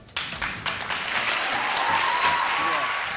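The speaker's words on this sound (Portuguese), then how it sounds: "Palmas para esse grande artista, gente." Studio audience applauding on a Brazilian TV variety show, a broad steady wash of clapping that swells and holds for a few seconds at fairly close range.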